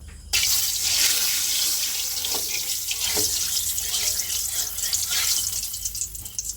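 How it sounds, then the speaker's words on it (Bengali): Cut potato pieces are rinsed clean under a running kitchen tap, with a steady, close, loud rush of water splashing into a sink and a few louder splatters as the pieces are moved about. "আলুগুলো বিট্টু কেটে দিয়েছে আমি ধুয়ে নিলাম পরিষ্কার করে"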